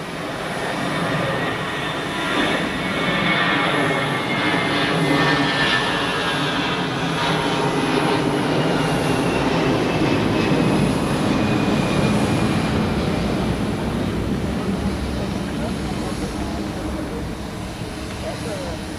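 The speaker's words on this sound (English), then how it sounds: "Here we have an A321 taking off on runway 16." An Airbus A321 takes off from runway 16 at Zurich Airport, its jet engines a sustained loud broadband roar that holds steady and then eases slightly, with a person talking over it.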